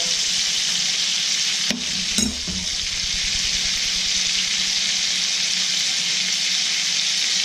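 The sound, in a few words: prime beef ribeye steak searing in stainless steel All-Clad pan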